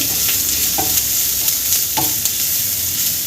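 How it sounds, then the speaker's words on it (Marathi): Ginger, garlic and chili paste sautéing in hot oil for an egg roll filling, a steady close sizzle with a few soft stirring scrapes of the spatula, no talking. "यामध्ये आपल्याला आलं लसूण मिरची याची पेस्ट घालायची आहे। हे आपल्याला छान परतून घ्यायची आहे।"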